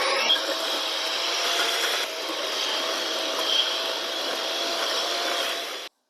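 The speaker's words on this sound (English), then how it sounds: "I will be using a handheld mixer" Handheld electric mixer beating butter and sugar together in a bowl for cookie dough, a steady unbroken motor whir with a faint grinding texture that runs without pause for about six seconds, then cuts off abruptly.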